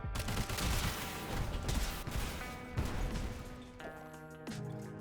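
Gunfire rattles in the video game Sulfur, a dense, loud fusillade of rapid shots with crashing impacts. Clanking mechanical sounds follow near the end.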